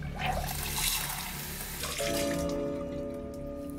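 Tap water runs steadily from a faucet into a sink in Bussigny, where the supply is yellowish or brown. A close, continuous rushing splash shifts into a steadier flow with a faint whining tone in the pipes partway through.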